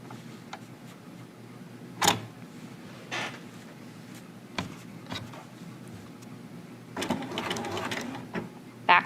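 A sewing machine stitches a zipper bag seam and back stitches, running in a few short separate bursts with quiet pauses between them, close by.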